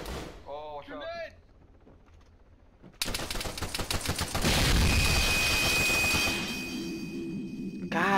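In Arma 3 combat, a sudden loud blast after a short lull, followed by sustained rumbling and crackling gunfire with ringing debris, loud and close, with brief shouted voices at the start.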